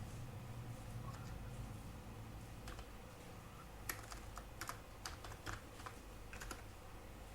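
Keys clatter on a computer keyboard while Flutter code is typed, with irregular bursts of soft clicks over a quiet steady room hum, no voices.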